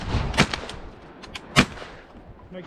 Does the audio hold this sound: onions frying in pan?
no